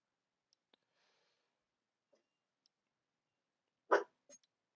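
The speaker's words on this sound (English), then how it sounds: "Hey, stop barking." A dog gives one short, sharp bark at close range, with a softer yelp shortly after, in an otherwise quiet room with only a few faint clicks.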